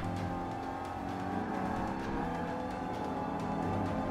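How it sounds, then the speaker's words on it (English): Engine of a car drifting in the Forza 5 racing game, a steady sustained drone with rising and falling revs and faint tire whir, loud and continuous throughout without talk. "Car drifting away there"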